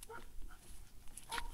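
A dog gives a few quick, faint yips and short barks in a brief burst, fairly distant and quiet.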